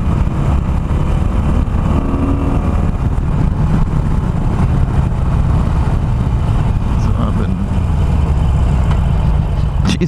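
A stock Harley-Davidson Iron 883 with an air box mod and flashed ECM, its V-twin engine rumbling loud and steady up close while riding, with continuous low-pitched drone and wind noise throughout.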